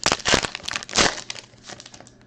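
Close, loud crinkling and tearing of a Panini Mosaic football card pack's foil wrapper being ripped open in two quick bursts, then softer rustling.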